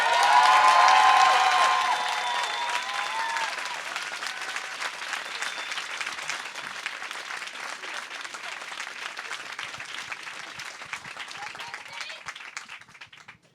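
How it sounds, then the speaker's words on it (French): Sustained audience applause at a press conference on a university campus, loud and dense at first, then easing into steady clapping that tapers off toward the end. "c'est quelque chose, je pense, qu'on peut applaudir aujourd'hui."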